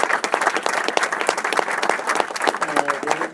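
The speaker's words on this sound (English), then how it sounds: "I think that we want to certainly give all the candidates a big round of applause." Audience applause for candidates at a Pennsylvania 8th district Republican debate, a steady roomful of clapping that runs throughout with some talk mixed in.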